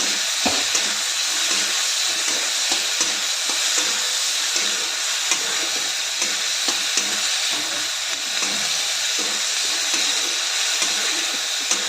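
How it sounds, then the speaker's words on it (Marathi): Onion and tomato fry in a pan for a village-style okra dish, with a steady, close sizzle that runs the whole time and is broken by faint scraping and stirring taps. "चांगलं मऊ होईपर्यंत कांदा टोमॅटो भाजून घेऊया."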